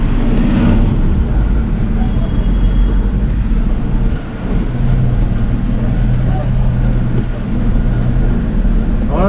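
A vehicle drives along a narrow mountain road near Vijoynagar, Miao, Arunachal Pradesh, with a loud continuous engine and road rumble throughout and a brief dip midway, while people talk over it.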